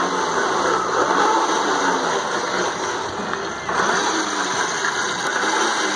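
A hybrid city commuter bike built as a final-year mechanical engineering project starts and runs in electric mode, giving a steady, loud mechanical hum and whir that continues throughout with only a brief dip near the middle.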